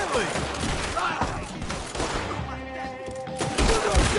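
Gunfire in a PS4 video game, a dense, loud burst of overlapping shots and bangs filling the whole moment, with voices mixed in.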